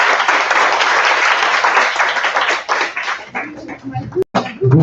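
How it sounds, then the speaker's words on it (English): An acting workshop audience gives a round of applause, loud, dense clapping close by that thins out and turns to scattered claps toward the end, with a sharp knock near the finish. "Another round of applause"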